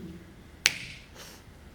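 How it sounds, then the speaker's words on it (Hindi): A single small finger snap, crisp and fairly faint, cracks once in an otherwise quiet room, followed by a soft trailing echo and no talking. "छोटी सी चुटकी बजाई"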